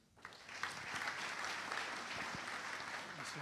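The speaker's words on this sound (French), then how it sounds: "Un grand applaudissement à Mobotix" Audience applause for Mobotix at a Synology business event in Paris, 2019: a dense, steady round of clapping from a sizeable crowd that rises quickly and holds through to the end.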